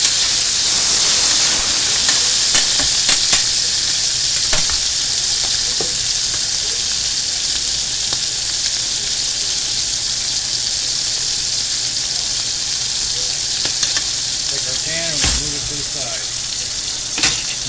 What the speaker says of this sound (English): deep fryer is ready to go.